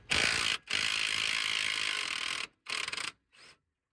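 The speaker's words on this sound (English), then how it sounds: "I was able to undo the nut with the impact gun itself." Impact gun loosening a tie rod nut on a BMW 530d F07 GT, heard as a loud, close rattling burst with a brief pause, then a long sustained hammering run and two shorter bursts trailing off.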